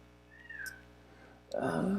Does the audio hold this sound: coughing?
no